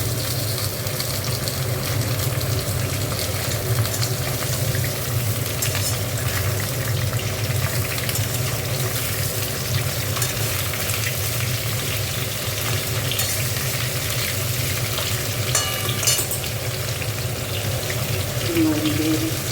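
Moringa drumsticks frying in a pan for a simple vegetarian poppy-seed dish, a steady loud sizzle held throughout with low hum beneath and no voice.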